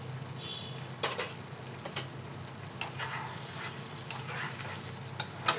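Ghee sizzles steadily in a pan for a vegetarian chal potol (pointed gourd with rice) dish, a continuous close frying hiss broken by several sharp stirring scrapes, with no talking.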